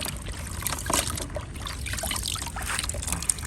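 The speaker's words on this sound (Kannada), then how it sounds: "ನೀರು ಹಾಕಿ ಸ್ವಲ್ಪ ವಾಶ್ ಮಾಡ್ತಾ ಇದ್ದಾರೆ" Water is poured over a large mud crab in a Kerala kitchen to wash it, a continuous close trickle and splash with light knocks, fairly loud and without speech.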